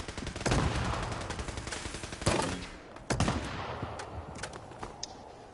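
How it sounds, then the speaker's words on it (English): Video game gunfire aimed at a rock, several bursts of sharp shots with a loud cluster near the start and more around the middle, fading into scattered lighter shots. "I was just shooting at the rock"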